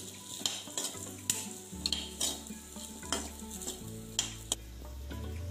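Cumin and fennel seeds fry in hot oil with a steady close sizzle, broken by repeated sharp clinks and scrapes of a spoon stirring in the pan.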